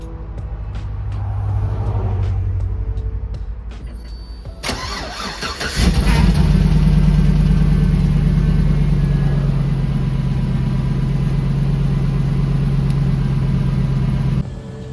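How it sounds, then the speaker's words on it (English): A car engine cranks and catches after a cheap muffler hole repair, then settles into a steady, loud, low idle rumble that continues to the end. "So let's fire it up and see how it sounds."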